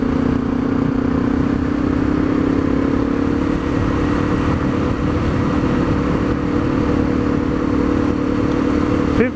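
A Honda CRF250L dual-sport motorcycle cruises at around 40 miles an hour, its engine holding a steady drone under continuous road and wind roar with no pauses.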